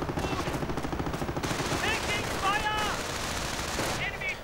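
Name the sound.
gunfire in a war strategy video game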